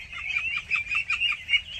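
A flock of 26-day-old domestic country ducks gives a rapid string of short, bright peeps and calls, close by and with no talking.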